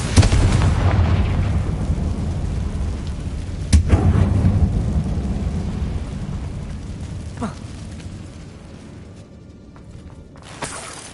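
A Confringo blasting spell bursting inside a closed tomb in Hogwarts Legacy, a deep rumbling boom that swells at the start, then a sharp blast followed by a couple of smaller cracks as the rumble fades.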